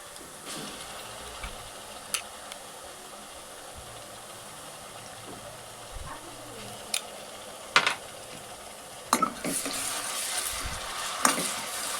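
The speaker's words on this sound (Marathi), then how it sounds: "दोन मिनटं परतून घेते." Onion frying with a ginger, garlic and green chili paste sizzles quietly and steadily, with sporadic clicks and scrapes of a spatula that grow louder and busier toward the end, with no speech.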